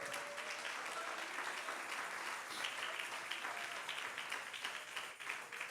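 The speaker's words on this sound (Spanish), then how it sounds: "Alguien dele un aplauso al Señor." A church congregation claps for the Lord during a sermon, a continuous wash of applause heard from some distance and fairly quiet, with no clear talk over it.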